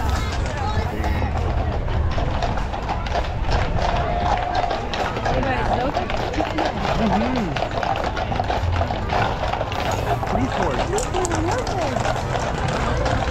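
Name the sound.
horses walking in Santa Claus parade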